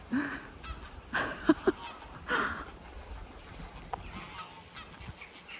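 Several geese honk in short bursts at a moderate distance at Blenheim Palace grounds, with quiet outdoor background between the calls.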